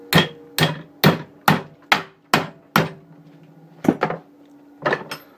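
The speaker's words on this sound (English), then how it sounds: "And I'll give it a good hit with the hammer." Seven sharp, ringing hammer strikes on a metal bar held in a vise land in an even rhythm, then a pause and a few more uneven blows near the end, each leaving a brief metallic ring.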